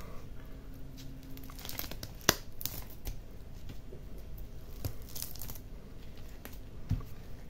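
Scissors snip through the fins of a sea bream being prepared for oven baking, giving quiet crinkling, crunching cuts with a few sharper snaps, close and faint against low background noise.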